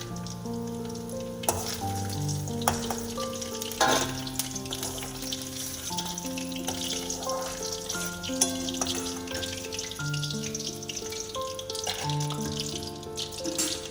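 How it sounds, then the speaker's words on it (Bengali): Small mourola fish fry in hot oil, a dense, close crackle and bubbling sizzle that continues without pause, with occasional sharper pops and faint kitchen tones underneath and no speech. "একটু লাল লাল করে ভেজে তুলে নেব মাছগুলো"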